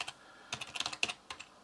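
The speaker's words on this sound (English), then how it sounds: "let's see if I just type in the information here" Fingers tapping on a computer keyboard, a few scattered keystrokes followed by a quicker burst of typing, close and fairly quiet in a calm indoor room.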